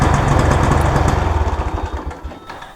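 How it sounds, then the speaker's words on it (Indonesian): A Honda Revo Fit motorcycle engine is held at full throttle but strains and cannot rev higher: a loud, close, pulsing drone that bogs and falls into slower throbbing chugs toward the end. "motornya di gas sampai full pun hanya segitu saja"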